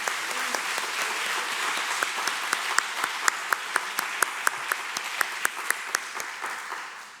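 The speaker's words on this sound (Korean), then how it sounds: "우리 하나님께 영광의 박수 올려드리겠습니다." A church congregation applauds at a youth revival service, a steady wash of clapping with individual sharp claps standing out, fading toward the end.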